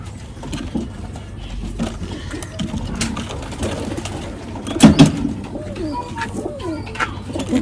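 A Haifa pigeon coos softly in a loft, low throaty murmurs repeating with a louder burst midway, amid faint ambient noise.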